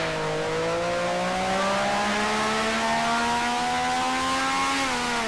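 A steady, droning 1960s Grand Prix racing car engine in the video game Grand Prix Legends, with a rising whine as it holds speed, shifting pitch slightly near the end, continuous and fairly loud.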